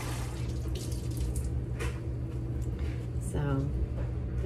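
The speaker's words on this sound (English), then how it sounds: "I think I'm gonna rinse them out one more time just to make sure I got all the soap and dirt and makeup out of them." Cloth face masks rinsed under a running faucet, a steady splashing stream of water with brief swishes, while a person talks over it.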